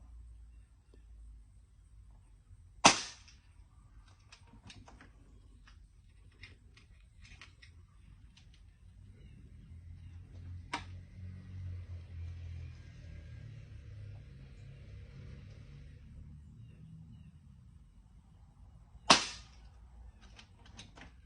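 Air Venturi Avenger air rifle firing outdoors: two sharp, loud shots spaced far apart, each a crisp crack with a short tail, over a low rumbling background with faint distant noise between them.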